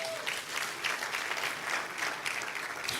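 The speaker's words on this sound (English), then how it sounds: "Clap for yourself, first of all." A conference audience claps for themselves, a fairly soft but steady patter of many hands spread through the room, continuing evenly.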